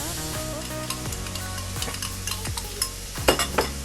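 Garlic sizzles and fries in a pan with repeated spoon stirs and scrapes, a steady close-up hiss under sharp utensil knocks in a floating-house kitchen, with no talking.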